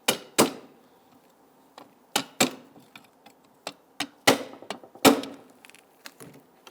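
A hammer taps a brake clip onto the rear drum brake assembly of a 2000-2006 Toyota Tundra: about ten sharp, close metallic knocks in irregular bursts, with short quiet gaps between them.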